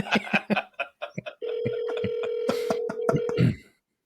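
A telephone ringback tone sounds through a phone line, a steady electronic buzz holding for about two seconds, while indistinct hold-line voices come and go around it.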